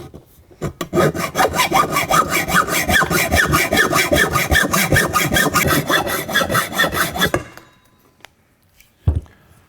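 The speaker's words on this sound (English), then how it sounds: "I'm going to get my hacksaw and just make a clean cut." Hacksaw cutting through the tube of an Austral folding frame clothesline, with steady rapid back-and-forth strokes for about seven seconds, loud and close, then stopping, followed by a brief knock.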